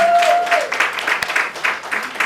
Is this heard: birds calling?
no